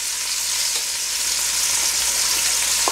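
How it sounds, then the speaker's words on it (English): A pot roast sears in very hot olive oil and butter, giving a loud, steady, close sizzle that holds without pause, alone and free of speech. "I'm just going to let it sit for a second, because I need this to stay extremely hot"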